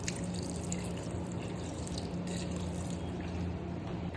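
Water poured into a pot of salmon-head paksiw with chili before it goes on the stove, a continuous loud splashing stream that runs alone for around four seconds.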